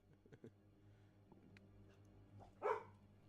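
Dogs indoors give faint, scattered yips early on, then one clearer bark near the end, all quiet and somewhat distant.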